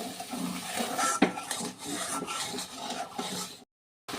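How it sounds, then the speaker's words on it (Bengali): Spice paste with added water being stirred in a pan, a soft close rasping scrape of the spoon across the pan with a few light clinks before it cuts off. "জল দিয়ে মশলাটাকে আবারও ভালো করে নেড়ে নিতে হবে"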